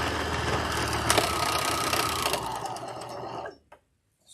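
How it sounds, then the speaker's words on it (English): A serger sewing machine runs fabric through with a fast, steady mechanical whir and rattle. It carries on for about three seconds, then winds down and stops, leaving near silence. "Serger spitting fabric out."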